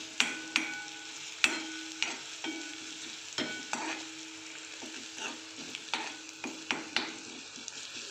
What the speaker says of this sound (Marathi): आपलं मसाला वाटण सगळं व्यवस्थित आता परतलं गेलेलं आहे.